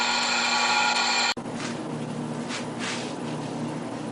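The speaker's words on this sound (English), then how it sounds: "it's mounted on the lathe, it's turning" A wood lathe spins a log being turned into a bowl, a steady whirring hum with a faint whine that shifts slightly after a brief click about a third of the way in, close and constant with no speech.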